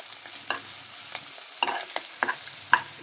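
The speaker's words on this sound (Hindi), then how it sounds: "अब इसको हम 2 सेकंड के लिए भून लेंगे" Vegetables for a cabbage, green pea and potato dish are stirred and sautéed in a pan. A spoon scrapes and clinks in irregular strokes over a soft sizzle, close and fairly quiet.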